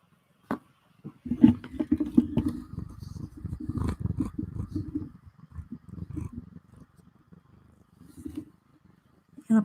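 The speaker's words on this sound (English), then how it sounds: "Can y'all hear her purring?" A cat purrs close up in a low, rhythmic rumble that rises and fades, with a few faint soft sounds around it.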